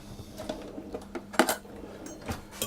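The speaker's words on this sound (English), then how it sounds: "I'm going to give that a bit of a stir around" Spoon stirring sugar and yeast into warm water in a bowl, giving light scattered clinks and scrapes, with one sharper knock midway; quiet, close and with no talking.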